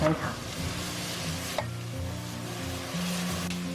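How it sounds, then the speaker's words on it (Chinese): Steady loud sizzling as chicken giblets and garlic scapes are stir-fried over high heat in a hot wok, with scraping stirs throughout and no talking. "然后再加入腌制好的鸡杂，还有蒜苔，我们给它翻炒"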